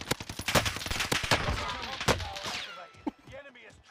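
Sharp, rapid gunshots ring out in a Warzone match, with several quick bursts in the first half before the firing thins out, heard amid game sounds.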